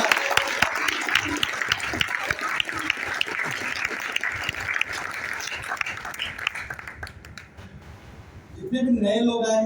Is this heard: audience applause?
yes